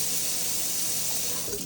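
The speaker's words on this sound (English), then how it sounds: "Good water pressure, little spray nozzle." A kitchen sink faucet with a spray nozzle runs at good pressure, giving a steady, loud, close hiss of water throughout.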